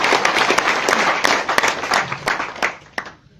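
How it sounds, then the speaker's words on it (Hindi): An indoor audience at a business achievement recognition event claps enthusiastically, a dense burst of applause with sharp individual claps that fades and thins out toward the end. "इन सभी अचीव्स के लिए एक बार जोरदार तालियां।"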